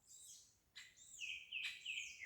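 Clear, bright bird song: a few sweeping, whistled phrases repeating at close range against a quiet background.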